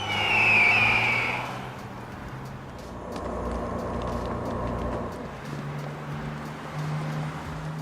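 A bus travelling along a narrow Andes mountain road, its engine rumbling steadily at moderate distance with a high whine fading early on, and no speech.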